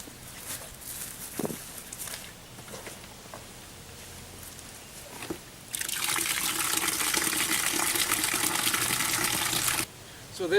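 Water gushes steadily into a container used for soaking and processing clay, a loud continuous pour lasting several seconds after some quieter handling knocks, then stopping abruptly.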